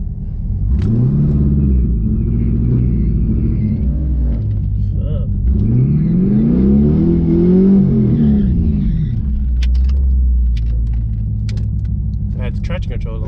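Pontiac G8 GT fitted with longtubes, intake, gears and a tune, revving hard and close in two rising and falling sweeps over a loud, deep, continuous engine rumble, with small clicks and rattles toward the end.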